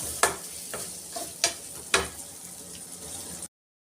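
Garlic and small onions sauté in a pan over low heat, a soft steady sizzle broken by a few sharp clacks of a spoon stirring, close and alone, then cutting off abruptly.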